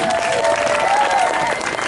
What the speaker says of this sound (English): So a big round of applause for everybody here.